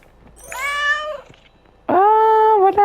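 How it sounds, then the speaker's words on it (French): A pet cat in a survival video game meows twice, clear and close, first a drawn-out mew and then a louder, sustained one after a short pause. "Un mode qui ajoute des animaux de compagnie, bah voilà, comme le petit chat ici."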